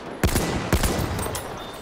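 Gunfire in the Battlefield 1 beta multiplayer: two loud, sharp rifle shots about half a second apart, each with a rumbling tail, over a steady wash of battlefield ambience.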